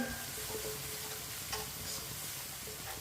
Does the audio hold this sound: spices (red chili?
yes